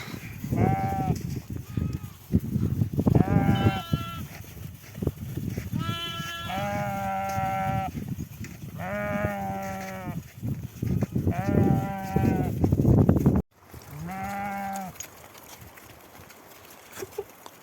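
Sheep bleat repeatedly as they are herded in spring, several animals calling in overlapping bursts over a rustling, busy background, with a brief cutout near the end.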